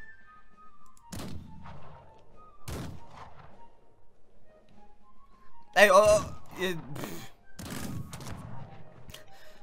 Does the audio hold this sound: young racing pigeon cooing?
no